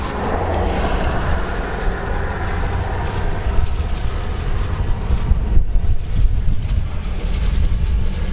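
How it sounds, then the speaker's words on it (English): Strong outdoor wind rumbles and buffets the microphone with a steady low roar, during a plein air landscape painting session. "Wind is picking up again."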